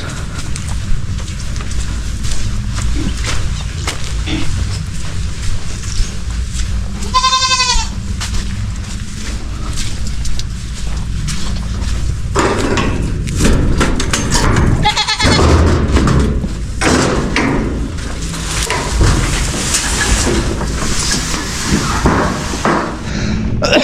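Goats bleat now and then over a steady outdoor background, with a wavering cry standing out near the middle and scattered knocks and rustles later.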